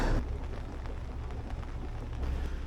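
Steady rain keeps up a continuous hiss with a low rumbling underneath aboard a Marex 375 boat in Norway, with no voices.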